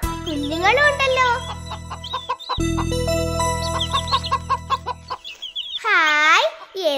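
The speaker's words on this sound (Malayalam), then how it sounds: "അതാ കോഴിയമ്മ, കുഞ്ഞുങ്ങളും ഉണ്ടല്ലോ." Hen and chicks in a cartoon: a hen clucks in bursts while chicks peep in high, quick chirps, with a brief jingle and some cartoon voices between, all close and clear.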